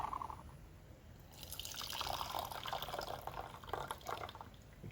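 Just-boiled water pours steadily over raw puerh tea in a gaiwan for a rinse, a bright splashing trickle that starts after a quiet moment and continues close up without talk.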